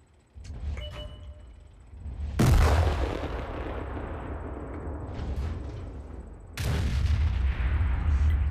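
Artillery shell explosions in World of Tanks, with tier 7 artillery: two heavy, booming blasts land close by. Each hits with a sharp onset and then rolls into a long rumbling decay, over a steady low engine drone.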